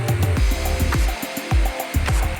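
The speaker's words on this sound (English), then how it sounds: "making a plunge cut just with the jigsaw is still possible" Black & Decker KS701PE variable speed jigsaw making a plunge cut, heard up close as a run of quick, repeated thumping strokes with a buzzing rasp between them.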